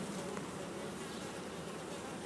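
Honey bees buzzing during a hive inspection, a thick, steady swarm drone close by with no pauses, loud and even throughout.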